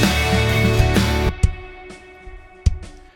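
A kick drum captured by a kick-in mic and a sub kick mic together: a dense burst of hits, then a few isolated punchy thumps with deep low end and a snappy attack, close and alone.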